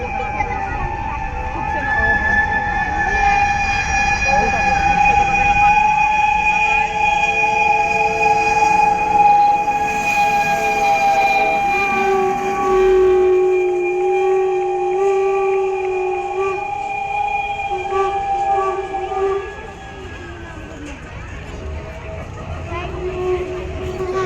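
Small smoking steam locomotive running in a steam locomotive parade, with steady rumbling and long sustained whistle-like tones throughout, loud and continuous, with voices talking over it.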